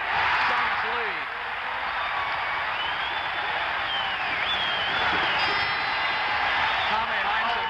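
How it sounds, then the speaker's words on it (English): A packed crowd roars and applauds in the Coliseum in Phoenix during Game 6 of the 1976 NBA Finals between the Celtics and Suns, a steady loud wall of cheering with a commentator talking over it. "Listen to the crowd, the Coliseum in Phoenix."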